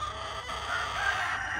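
A local rooster crows close by in a 1.7-second burst, its strained call sustained and fairly loud over a steady background hum, with no voices present.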